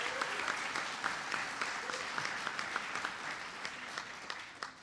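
An audience at a tribal nations conference applauds steadily, a dense patter of many hands clapping at moderate distance that holds for several seconds.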